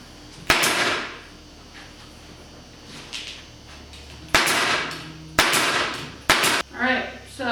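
Staple gun driving staples through fabric into a DIY acoustic panel, four or five sharp, loud snaps spaced irregularly, with some talk and handling noise between shots.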